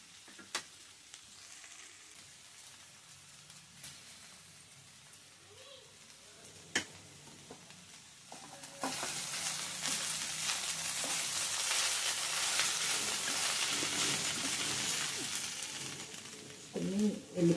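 Okra pieces sizzle and fry in a pan over medium heat while being stirred, a steady crackling hiss that grows louder and denser halfway through, with occasional scraping clatter of the spoon.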